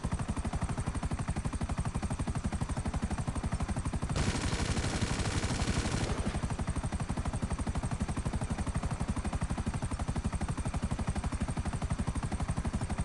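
Explosions and rapid gunfire in GTA V Online, with a dense, continuous rattle throughout and a louder, harsher burst of blasts midway.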